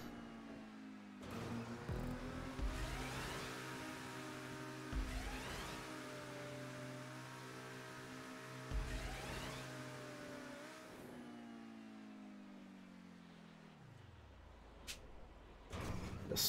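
A car engine revving through a stunt race in GTA Online, a steady droning roar rising and falling in pitch through several shifts, then winding down near the end.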